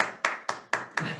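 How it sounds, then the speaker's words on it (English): A single person claps slowly and sharply at a city council meeting, five distinct claps at an even, unhurried pace, close and fairly quiet in an otherwise still room. "I appreciate your applause."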